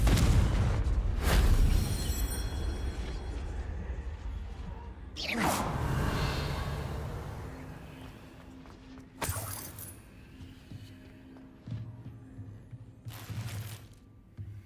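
A Confringo blasting spell fires in the Hogwarts Legacy video game, bursting with loud booming explosions at intervals, the largest blast roaring near the middle over a rumbling low backdrop, with smaller impacts and crackles following.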